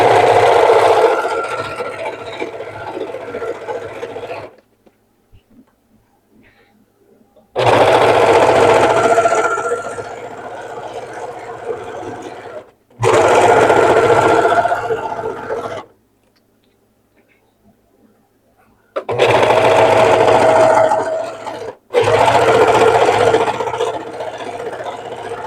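Sewing machine stitching scrap fabric, running loudly in four long whirring bursts of steady needle chatter separated by silent pauses.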